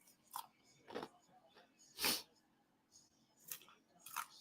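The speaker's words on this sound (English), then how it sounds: "I'm chewing ice, Lindy." Ice chewed close to the mouth produces a series of sharp, separate crunches about every half second to second, the loudest in the middle, with quiet gaps and no speech.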